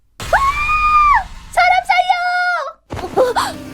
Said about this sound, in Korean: 돌연 밖에서 여성의 비명이 들려왔다.